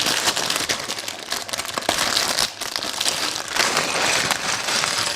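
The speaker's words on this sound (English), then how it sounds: "The plastic bag, whoa, always the noisiest" A plastic bag of loose LEGO bricks crinkles and rustles loudly and close up, with continuous crackling that swells and dips for about five seconds, no voices.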